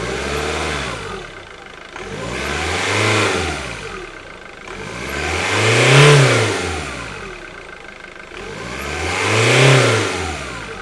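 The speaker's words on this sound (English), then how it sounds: "give it some throttle and see if that moves" A car engine with a turbo actuator under test is revved repeatedly from idle, three or four swelling throttle blips rising and falling in a steady rhythm, close and loud with no talking.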